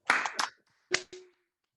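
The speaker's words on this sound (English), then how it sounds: "Clap." Two pairs of sharp hand claps in a quiet room during a monologue performance, each pair quick and close, with a short pause between the pairs.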